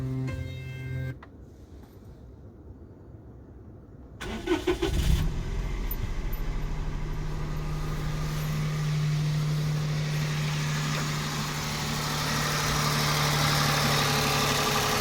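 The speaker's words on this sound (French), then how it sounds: "je vais vous tenter de la démarrer et puis on va voir ce que ça donne" A Subaru car engine cranks briefly, catches with a burst, then settles into a steady, close idle with a faint whine that builds slightly toward the end.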